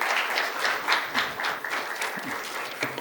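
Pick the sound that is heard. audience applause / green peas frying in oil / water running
audience applause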